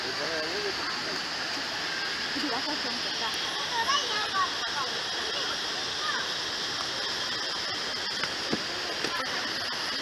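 The Kuang Si waterfall near Luang Prabang, a steady broadband rush of falling water heard from nearby, continuous and even, with faint voices talking in the background.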